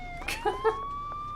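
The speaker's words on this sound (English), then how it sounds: "This car is still over here, still blaring sirens, still a little broken." A broken police-style car siren in the video game Schedule 1 wails with a steady rising tone, faint and in the background, with a few brief, louder sounds over it.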